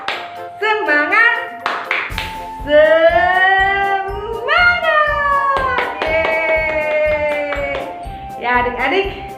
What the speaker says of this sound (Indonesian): Kita sekarang tepuk semangat dulu yuk.